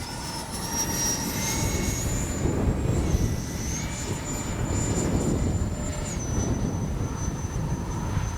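A FREEWING 80mm F-22 RC jet comes in to land, its electric ducted-fan engine giving a steady whine with a shifting high tone over wind noise, heard from a distance with no talk.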